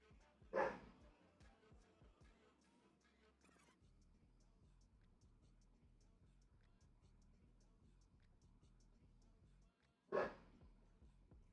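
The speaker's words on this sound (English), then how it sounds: "This rat keeps barking. No, this dog." A dog barks outdoors, faint and at a distance. There are two sharp single barks about ten seconds apart over a quiet, ticking background.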